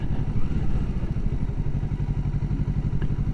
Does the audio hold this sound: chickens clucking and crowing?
no